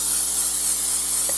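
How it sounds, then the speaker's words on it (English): Cooking spray hisses steadily onto a baking dish in one short, continuous burst of close, even spray noise. "baking dish just a light spray"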